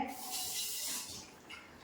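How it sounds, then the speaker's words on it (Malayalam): Water is poured into a pressure cooker holding chicken, a brief, soft splashing gush heard up close for under two seconds. "ഒരു ശകലം വെള്ളം കൂടെ ഒഴിച്ചു കൊടുക്കാം"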